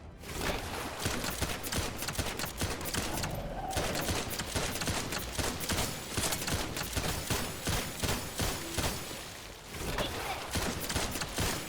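Guns rattle in dense, nearly continuous bursts in the shooter video game The First Descendant, loud and busy for the whole stretch, with only a brief dip in the firing.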